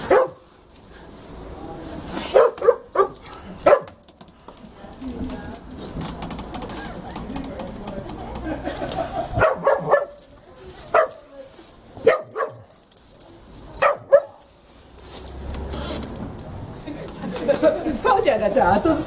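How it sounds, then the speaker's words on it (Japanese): A whippet barks several times in short bursts, fairly close, with quiet talking in the background between barks. "さばちゃん、また吠えてみようか"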